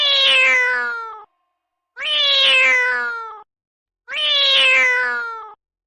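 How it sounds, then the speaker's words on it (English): A cat meows three times in a row, each call loud, drawn out and evenly spaced, with short silences between and nothing else heard. "C for cat."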